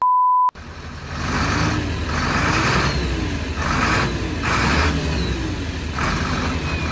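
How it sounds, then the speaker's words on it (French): An engine runs steadily, its revs rising and falling in smooth sweeps, close and fairly loud, after a brief electronic tone at the start. "ce que j'aime par-dessus tout dans ce moteur, c'est le bruit."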